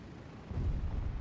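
A missile explosion in the War Thunder video game lands as a low, rumbling boom that swells halfway through and lingers as a muffled roar.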